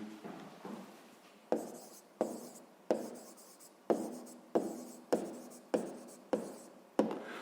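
Math notes written by hand while working a fifth-grade problem on closing speed: about ten close, crisp scratching pen strokes in a steady, slightly uneven rhythm, each sharp at onset and fading quickly, with no talking.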